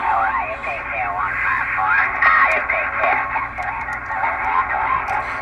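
A Johnson Messenger 350 CB radio receiving single sideband plays warbling, pitch-shifting voices over a steady hiss, with a few faint clicks of static.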